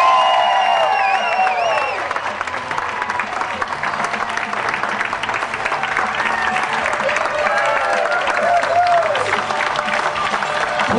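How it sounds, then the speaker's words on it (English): Guests at a wedding reception at a harbor tavern in Gloucester applaud the newlyweds' entrance, loud sustained clapping with cheers and whoops, with a voice over the room. "please put your hands together for our newlyweds, the new Mr. and Mrs. John Chechu."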